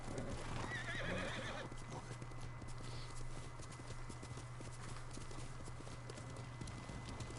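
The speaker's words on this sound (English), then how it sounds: "Alright, my horse." Horse in the game Ghost of Tsushima gives a loud whinny over a steady clip-clop of hooves, set against constant ambient background sound.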